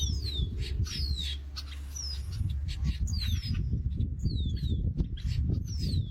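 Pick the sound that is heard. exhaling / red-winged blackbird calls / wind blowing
red-winged blackbird calls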